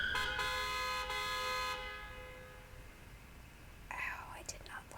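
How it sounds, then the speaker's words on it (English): A car horn honks in the Peachleaf Valley video game, a sustained harmonic blast lasting under two seconds over a low background hum, followed by a faint breathy voice. "a speeding car honks angrily at me"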